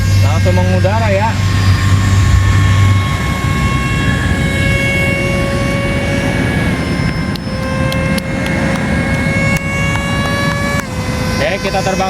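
An RC F22 Raptor model jet takes off at half throttle from a wide open field and climbs away, its steady high-pitched whine rising and shifting in pitch as it flies, loud and continuous, with a voice talking over it.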